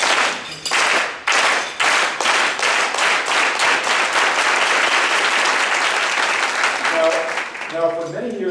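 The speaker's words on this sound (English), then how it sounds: "it's a farm worker applause because of the unity and momentum" Rhythmic, unified farm worker applause from a conference crowd: loud hand claps begin as separate beats, then quicken into a steady, dense pulse, with a few brief vocal sounds near the end.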